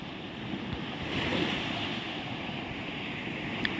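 Sea waves breaking on a clean beach at Panama City, Florida, a soft continuous wash of surf with light wind noise, fairly faint and steady.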